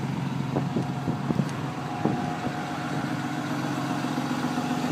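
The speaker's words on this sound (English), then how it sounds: "I apologize, we're at high idle, so you might be hearing a lot of noise." A 2013 Dodge Ram 3500HD SLT with a 6.7-liter inline-six turbo Cummins diesel sits at high idle, giving a steady, close droning rumble with a constant tone and a few light clicks, with no talking.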